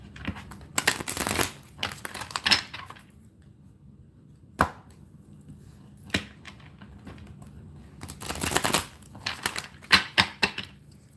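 A deck of cards shuffled by hand, several crisp riffling bursts with short pauses and scattered taps between them, close up in a quiet room.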